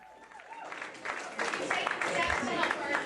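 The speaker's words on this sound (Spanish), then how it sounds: "Este aplauso que acabáis de escuchar estaba dedicado a Kirsten Gillibrand" Applause for Kirsten Gillibrand in New York, a crowd clapping that swells after the first second and keeps going, heard under a voice talking over it.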